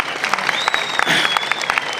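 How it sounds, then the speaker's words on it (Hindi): Audience clapping in a hall at the Nimar Utsav festival in Maheshwar, a steady, fairly thin patter of hands that stays even for about two seconds, with a faint tonal whistle running underneath. "तालियां कम हैं"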